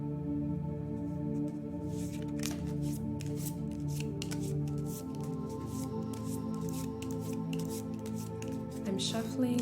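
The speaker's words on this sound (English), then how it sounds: "I'm shuffling the Species by the Thousands Crystal Oral deck." An oracle card deck from the Species by the Thousands series is shuffled by hand, giving soft, irregular riffling and slapping bursts beneath a low background drone, fairly quiet and close.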